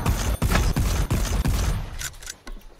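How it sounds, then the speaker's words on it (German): Gunfire in the video game Volcanoids comes as a rapid burst of about eight loud, evenly spaced shots up close, then stops and leaves a few fainter clanks and thuds. "Oh, da wird schon geschossen."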